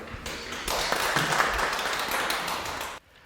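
Audience applause at a school autonomy forum, a dense burst of clapping from a seated crowd lasting about three seconds, steady and fairly loud, then cutting off abruptly into near silence.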